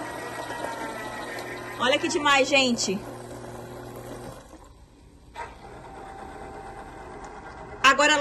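A coconut water capsule machine runs with a steady mechanical hum, then gives a short burst of gurgling and pumping as it dispenses, quietens, and resumes humming. Someone speaks briefly over it.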